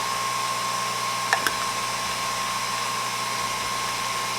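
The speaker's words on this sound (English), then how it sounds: "I'm also frothing some whole milk, and this is the Nespresso frother." A Nespresso milk frother whirs steadily as it froths warm whole milk, a constant close hum with a faint high whine and a couple of brief clicks, and no voices.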